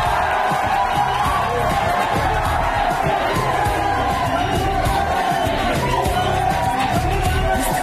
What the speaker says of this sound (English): Let's clap for her